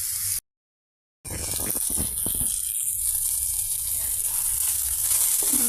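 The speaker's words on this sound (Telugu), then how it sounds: "మన బ్రింజిల్ పీసెస్ ఏ విధంగా ఫ్రై అయిపోయాయండి" Brinjal pieces frying in a pan over a low flame, a steady close sizzle and crackle that carries on without a break after a short silent gap at the start.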